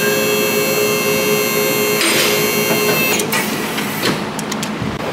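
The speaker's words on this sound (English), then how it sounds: "I'll lift the vehicle up so you guys can see this." A vehicle lift raises a car in a race shop, giving a loud, steady mechanical hum throughout, with a clattering release and scattered knocks toward the end.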